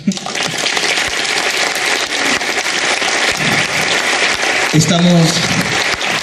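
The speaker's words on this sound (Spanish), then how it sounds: "Fuerte aplauso." Loud, dense applause fills the space continuously, with a brief voice or tonal sound rising near the end.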